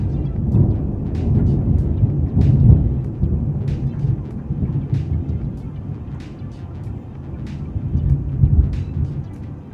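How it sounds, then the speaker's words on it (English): A deep, rolling rumble of thunder swells and fades over steady storm noise, with faint crackling taps scattered throughout. "The storm."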